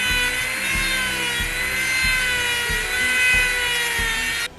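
A pointed rotary carving bit sharpens detail on a carved wood spirit face, giving a steady high-pitched whine with a repeating low pulsing hum beneath, close and continuous with no talk.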